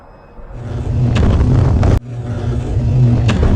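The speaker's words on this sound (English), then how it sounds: "It sounds so bad. I don't know if I have like a loose motor or something." Electric motor of an RC model plane running rough as though loose, a loud close whirring drone that rises, cuts out abruptly, then swells again with a gritty uneven tone.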